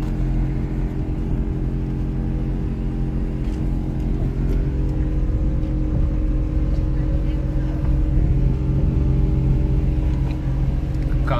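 A small Volkswagen Up with custom stance air suspension drives along, its engine and road noise forming a steady, loud, continuous drone inside the cabin.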